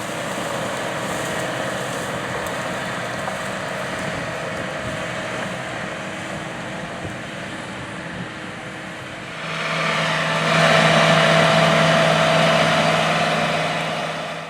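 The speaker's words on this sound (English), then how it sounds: "It is being operated by a 470 engine horsepower John Deere 9470R articulated four-wheel drive tractor." A 470-horsepower John Deere 9470R articulated four-wheel-drive tractor spreading chicken litter on a farm gives off a steady engine drone that grows noticeably louder and fuller about two-thirds of the way through.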